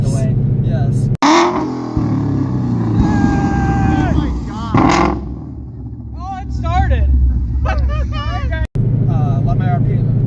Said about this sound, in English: Let my RPMs rise up to about 6 or 7 or so